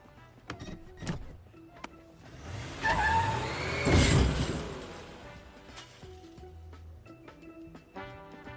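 A passing car's engine surges through mid-clip, peaking around four seconds with a broad rushing burst that suggests a splash, followed by a quieter tail with sparse background noises.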